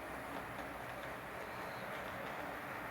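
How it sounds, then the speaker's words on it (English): A model train runs on the Lumberton Valley layout, giving a faint, steady rolling rumble and whir with no distinct clicks, heard quietly and unbroken. "Yes, that is a train running"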